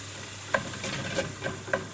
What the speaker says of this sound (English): start to stir it up just a little bit here. See, the meat is starting to cook on the bottom.